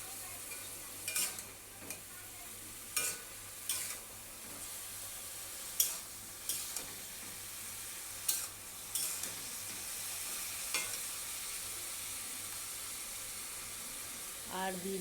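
Turmeric is stirred into a pan of frying shapla (water lily stems) for a mustard-poppy seed curry, with scattered spoon scrapes and taps over a quiet low sizzle.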